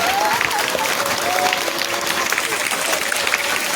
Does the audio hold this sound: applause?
yes